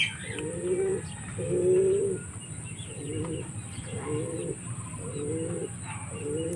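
Racing pigeons coo at the loft as birds return from a long-distance race release. About six close, soft, rhythmic coos repeat over a steady background hiss.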